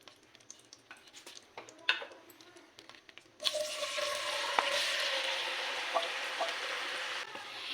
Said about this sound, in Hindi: हमारा घी गर्म हो चुका है। अब हम इसमें अरबी ऐड करेंगे